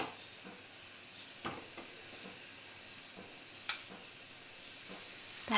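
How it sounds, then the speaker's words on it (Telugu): Cashews frying in a pan, a steady soft sizzle and hiss with a few stirring scrapes and clinks, close by and fairly quiet with no talk. "కాస్త జీడిపప్పు ఫ్రై అయ్యాక అందులోనే కిస్మిస్ కూడా వేసేస్తున్నాను."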